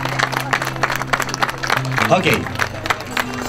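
Audience applause at a gathering in Chile honoring guests, a rough wash of clapping running steadily beneath someone talking over a microphone.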